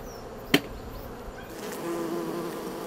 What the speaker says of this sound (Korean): 파리를 왜 잡아?